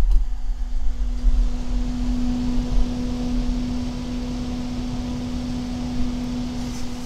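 An all-white EK-Vardar F4-120ER 120 mm liquid-cooling fan, rated to 2200 rpm, spins at full speed, giving a steady close whooshing hum with a constant tonal whine and no talking.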